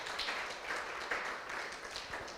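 Steady applause from a church congregation during a sermon, a dense wash of clapping at moderate distance, continuous and fairly soft throughout.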